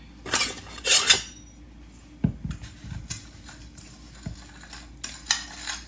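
A spoon is pulled from a drawer of cutlery in a home kitchen, producing a few sharp metallic clinks and clatters, followed by scattered lighter taps and knocks, close by with no talking.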